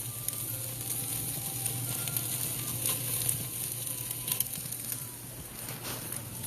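A T-bone steak searing on a hot grill, giving a steady close sizzle and crackle with small pops, alone with no talk, fading slightly near the end.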